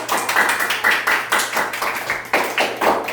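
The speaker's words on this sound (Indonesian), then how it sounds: "Kita kasih aplaus." Group applause from a class, rhythmic claps in steady repeated pulses, fairly close and loud, with no talking over it.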